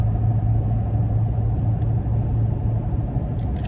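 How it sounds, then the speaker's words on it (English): Steady road noise inside a 2018 Ram 1500 pickup with the 5.7 Hemi V8 at 77,000 miles, cruising down the interstate: a constant low rumble and tire drone, loud and unbroken, with no talking. "Road noise is there, but not terrible."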